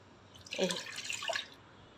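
Tripe being washed by hand in water with flour, a short close splashing and sloshing swirl rising and fading within a couple of seconds.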